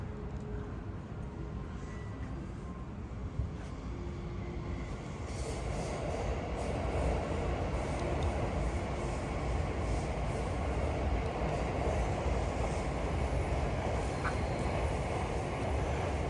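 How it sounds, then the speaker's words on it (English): A Yamanote Line commuter train rumbles steadily into Okachimachi station in Tokyo, growing louder and denser about halfway, with a continuous roar of wheels on rails and faint high squeals. "the Yamanote line train in the background, arriving at Okachimachi station"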